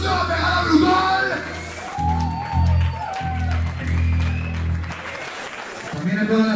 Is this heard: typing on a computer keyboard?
no